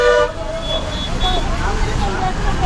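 An APSRTC bus on the Kothurulanka–Tenali route sounds its horn in a steady, sustained toot over busy market traffic noise in Tenali, Andhra Pradesh, with voices in the background.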